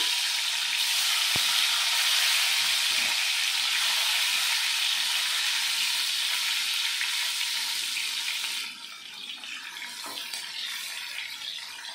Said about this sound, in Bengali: তো আমি প্রথমে ডিমগুলো ভেজে নেব। ডিমগুলো আমি লবণ হলুদ মেখে রেখেছি।